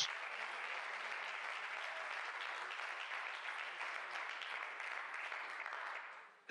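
A congregation at a Spanish-language church service keeps up a loud, even round of applause for over six seconds, a dense wash of clapping that cuts off abruptly at the end.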